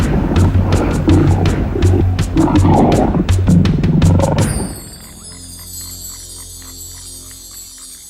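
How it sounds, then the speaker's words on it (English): A lioness from a pride growls at close range in the wild: loud, rough, pulsing growls for about four seconds, then a quieter stretch of background ambience with high insect-like tones. "One lioness showed its displeasure at my closeness, while the other members of the pride ignored me completely."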